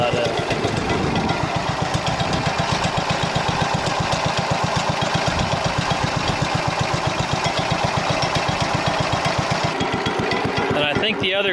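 A Cub Cadet 100 garden tractor runs in its slow creeper gear, the engine chugging loud and close in a steady, even rhythm for the whole stretch.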